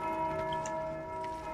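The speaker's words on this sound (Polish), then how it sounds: "Ale znowu ktoś bije w dzwon." Church bell ringing inside the Dark Souls II crypt, a steady sustained metallic toll with ringing overtones held throughout, moderately loud with no talk over it.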